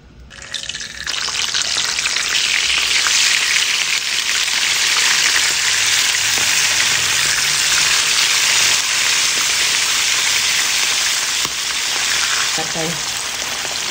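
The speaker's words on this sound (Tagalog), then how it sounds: "So, prituhin muna natin ito lahat." Fish frying in hot oil in a home kitchen, a loud, continuous crackling sizzle that starts abruptly and holds steady for the whole stretch, close up and with no one talking over it.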